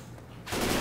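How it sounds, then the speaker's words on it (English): Gunfire in the zombie shooter Left 4 Dead 2 rises suddenly midway as a dense, loud burst of shots after a quieter lead-in. "Why are you shooting at me?"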